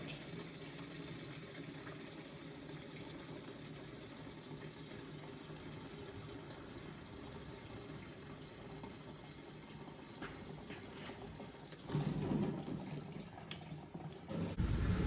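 Fluid running out of a 1951 GMC COE truck as a steady, faint trickle and splash that swells louder toward the end.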